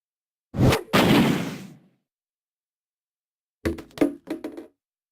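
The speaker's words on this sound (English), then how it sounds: "The blast must have shattered it." In the video game Zero Escape: 999, a blast shatters ice on a door: a sharp whooshing burst, a pause, then a quick cluster of cracking, knocking impacts as the ice breaks apart. No one speaks.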